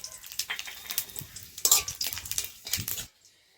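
Dried chili, bay leaf and cumin crackle in hot oil in a pan for a fish and bottle-gourd-greens dish, with bursts of close sizzling and utensil clinks from stirring before the sound cuts off.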